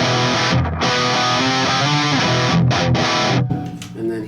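Baritone guitar played through a Kemper amp with distortion and a Distressor compressor, loud and sustained, chugging chords and held notes with brief pauses between phrases.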